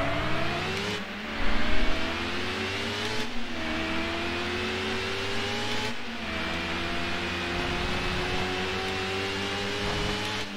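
A Dodge Viper engine in Need for Speed Hot Pursuit 2 revs hard, its whine climbing through several gear changes in repeated rising sweeps, loud and steady throughout.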